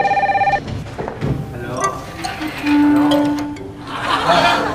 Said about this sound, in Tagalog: Oh, telepono.